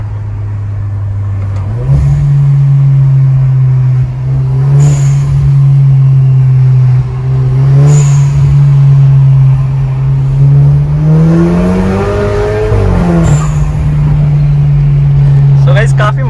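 A modified Skoda Octavia 1.8 TSI with a stage 2+ remap drones from the cabin, its engine rising and falling with revs, and short blow-off valve whistles sound several times while someone talks.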